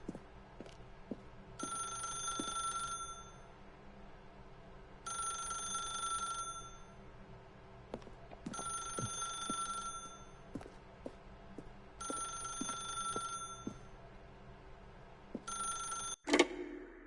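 A telephone in the video game The Stanley Parable rings in five regular bursts about every 3.5 seconds, with soft clicks and footsteps between the rings. A sharp thump near the end sounds like the receiver being picked up.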